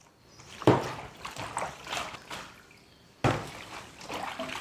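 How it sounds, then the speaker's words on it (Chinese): Eggplant is rinsed clean by hand in water, with a few sharp splashes followed by softer trickling and sloshing, close by with no talk. "把它清洗干净"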